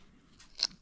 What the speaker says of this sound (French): Et que je refais un pli.